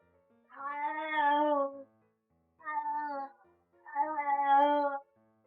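A cat gives three drawn-out, tuneful meows close to the microphone, the first and last long and the middle one shorter, with short silent gaps between them.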